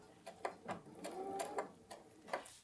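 Sewing machine straight stitching a scrunchie with a regular foot, quiet rhythmic needle clicks in short bursts at a steady pace, close and alone.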